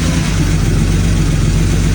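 A BMW E61 engine idles loud and close with a steady, low rumbling drone and an even mechanical pulse throughout, no voices.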